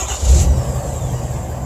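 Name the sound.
Ford F350 dually truck engine starting, exhaust sound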